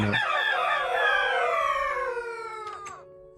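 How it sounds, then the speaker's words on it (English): A single loud rooster crow from the video game TerraFirmaCraft rings out close by. It rises, holds, then trails off, with no voices around it. "I still need to sort out those chickens. God, they are so loud."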